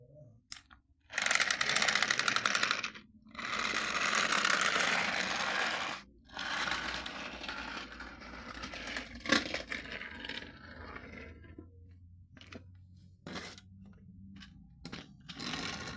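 A motorized Trackmaster Percy toy train runs with a loud, close mechanical whirr and buzz. The sound comes in long stretches broken by short pauses, then fades to a quieter rattle near the end.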